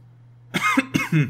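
A man coughs two or three times in quick succession, close and dry, over a low steady background hum, after drinking coffee.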